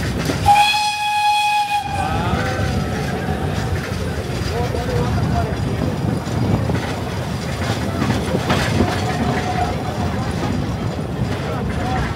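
A Mocănița narrow-gauge forest train runs in Bucovina, opening with a loud whistle blast followed by a steady rumbling, rattling roll of the cars, with voices heard over it.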